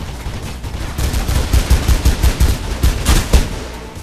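Rapid automatic gunfire in Mirror's Edge, a steady close-range burst of sharp repeated shots with a few heavier reports near the end, loud and with no talking over it.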